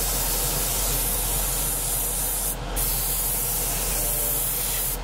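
A spray gun lays a heavy coat of paint in a steady, continuous hiss that runs nearly unbroken through the clip, close and loud, with a brief dip midway.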